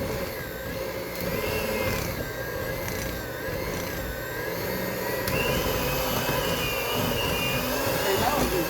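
An electric hand mixer whirs steadily through cake batter with vanilla, a continuous close motor drone with a faint voice underneath.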